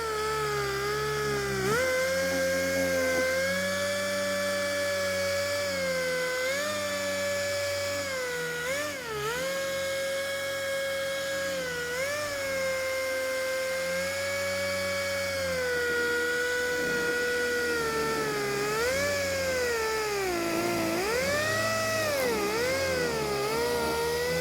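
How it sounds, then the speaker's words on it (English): A Rupes LHR 75 polisher wet sands faded, oxidized GM clear coat with 2000 grit, making a steady electric whine that dips and rises in pitch as pressure shifts, heard alone at close range for over twenty seconds. "We're going to use 2000 grit on the Roops LHR 75."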